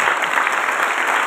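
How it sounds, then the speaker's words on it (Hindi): A congregation at a Christmas Day church service claps loudly and steadily in sustained applause, a dense crowd of hands with no voices rising above it. "बजाइए यीशु के लिए जोरदार ताली।"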